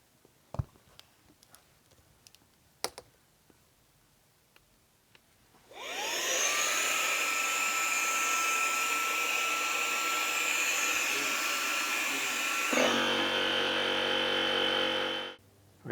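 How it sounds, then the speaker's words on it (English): An air pump inflates a single-chamber FlowStop to 15 psi. A few faint clicks come first, then a loud, steady motorized whine and rushing air start up close, shift pitch slightly partway through and stop near the end. "we're now going to continue inflating it to 15 psi"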